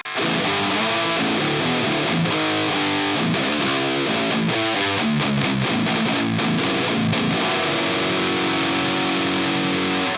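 Electric guitar played through a vintage amp with a Kohle distortion pushed hard on one channel, dense saturated chords and riffs ringing loud and continuous, no speech.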